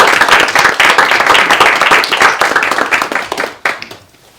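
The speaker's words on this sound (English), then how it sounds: "One more round of applause." Audience at a school committee meeting breaking into loud, dense clapping that carries on steadily before thinning out and fading to a few last claps.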